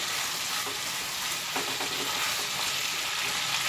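Vegetables sauté for a vegetable red sauce pasta, seasoned with herbs and ground black pepper. A continuous close sizzle and hiss goes on with faint stirring scrapes, and no one speaks.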